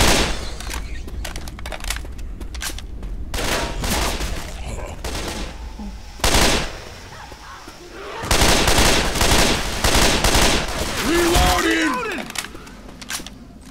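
Rapid bursts of combat rifle gunfire and other weapon fire in the zombie shooter Left 4 Dead, with loud volleys after the midpoint and people talking during the action.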